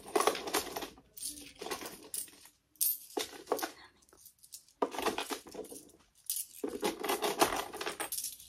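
A pile of loose coins is dropped and sorted, giving bursts of bright metallic clinks and jingles separated by short pauses, close up and without talk.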